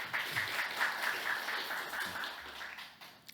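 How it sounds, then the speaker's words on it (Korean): Scattered applause rises from a youth conference audience in Korea, soft and somewhat distant, steady clapping that gradually thins out. "다시 한번 좀 박수 부탁드리도록 하겠습니다"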